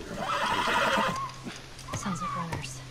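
A horse in The Last of Us video game gives a loud whinny, followed by a few clip-clopping hoof steps, close and clear.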